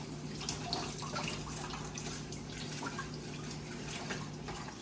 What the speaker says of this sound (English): I'll wash the spinach out properly.